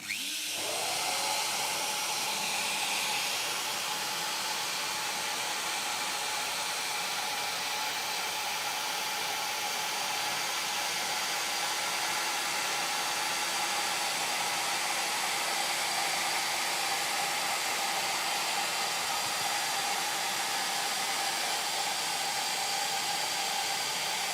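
A milling machine routes a groove into solid wood with a 1 mm offset, giving a steady, loud high-pitched whine that holds constant for the whole stretch, with no talking over it.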